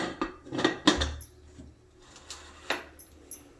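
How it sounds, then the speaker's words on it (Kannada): Metal pressure cooker lid being fitted onto the cooker while making goat leg mutton sambar: a few sharp, close clanks and scrapes of metal on metal, then quieter handling knocks, with no talking. "ಕುಕ್ಕರ್ ಮುಚ್ಚಳವನ್ನು ಹಾಕಬೇಕಾಗುತ್ತೆ."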